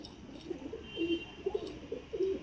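A pigeon coos close by in soft, low, throaty phrases, several short rolling calls over about two seconds against quiet background hiss.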